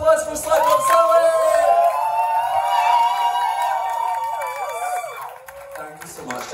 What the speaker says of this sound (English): Big round of applause for Slipknot Sally!